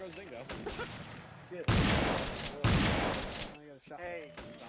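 Rapid gunfire in an Indochina-era video game battle: two heavy, sustained bursts of shooting that boom out close and loud, with players talking before, between and after them.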